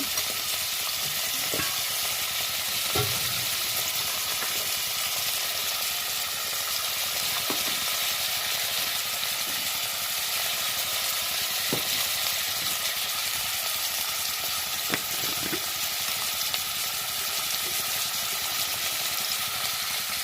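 Papad and drumstick fry in a pan with very little oil, giving a loud, continuous, dense sizzle broken by occasional light scrapes and taps of a stirring spoon.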